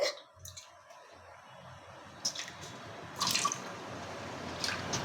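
Water is poured off washed dried anchovies (nethili karuvadu) in a kitchen: a quiet trickle with drips and light splashes, a few soft clicks, and no talking.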